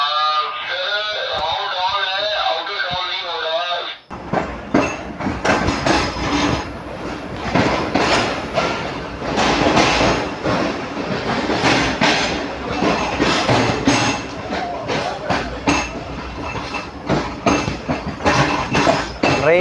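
A passenger train pulling out of Rahim Yar Khan station in Pakistan rolls along the rails with steady rumbling, metallic clinks and clatter; an announcement-like voice is heard briefly at the start.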